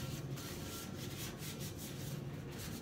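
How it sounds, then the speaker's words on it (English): A cleaning wipe scrubs a wheel rim clean before powder coating, a soft, rhythmic rubbing rasp repeated back and forth, close but faint, without voices. "you're just scrubbing any contaminant that may be on there off"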